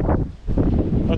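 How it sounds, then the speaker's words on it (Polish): Wind gusting across a wild spring coastline on Pag island in Croatia, a steady rushing roar with buffeting on the microphone, briefly dipping before surging back loud and close. "ale się zrobił wiatr"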